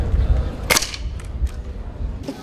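Rifle shots fired at a target during a team shooting exercise: one sharp, loud report stands out near the start, followed by fainter shots later, over outdoor background noise.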